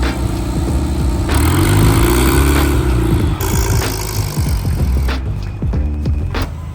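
A turbocharged 22RE engine in a Toyota pickup fires up and revs, loud and close, with the engine note rising and falling under bursts of clatter and sharp transients.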